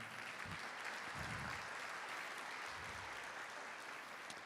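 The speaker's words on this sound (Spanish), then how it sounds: "Démosle un aplauso al Señor." A church congregation applauds during a Spanish-language evangelistic sermon, a steady, distant wash of many hands clapping, fairly faint, with faint voices mixed in.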